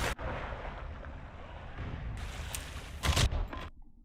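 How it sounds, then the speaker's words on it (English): Grenade explosions in a video game: a sustained rumbling blast with a louder burst near the end, then a sudden cutoff to near silence. "I think maybe 1 grenade,"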